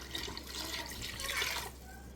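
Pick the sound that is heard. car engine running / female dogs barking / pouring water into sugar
pouring water into sugar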